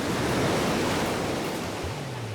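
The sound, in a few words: sea waves at a beach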